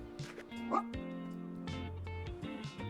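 A stray dog in the video game Tiny Bookshop gives a few short yips and whimpering barks, close and moderately loud, with musical tones sounding alongside it.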